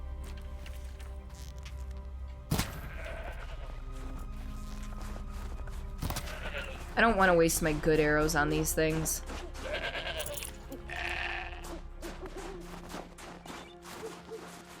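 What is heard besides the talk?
goat bleating in video game Horizon Zero Dawn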